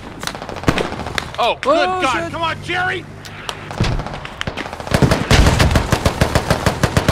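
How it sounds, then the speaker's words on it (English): Heavy machine gun fire and explosions in the Squad military video game, bursts of rapid loud shots with thuds, alongside excited shouting voices, the firing growing dense and rhythmic toward the end. "Heavy caliber machine rifle over here, and explosions."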